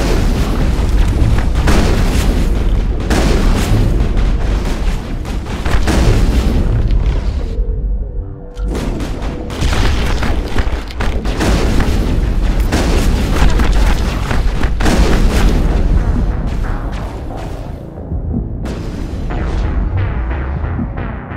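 A firefight against Geth in Mass Effect: dense, continuous gunfire and booming explosions crowd one another at close range, with only brief lulls.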